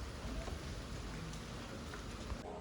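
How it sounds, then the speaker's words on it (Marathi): Light rain falls in foggy weather at Mahabaleshwar, a faint, even hiss of drops with occasional soft taps, steady and unbroken. "फॉग ही आहे पूर्ण वेदर आणि थोडा पाऊस आहे."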